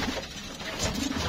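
Domestic pigeons cooing in a backyard loft, low soft coos rising and falling a couple of times against steady background hiss, fairly close.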